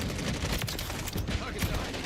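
Rapid gunfire in a Call of Duty match, dense overlapping bursts and sharp reports crackling continuously up close with low booming thumps beneath, game voices faintly mixed in.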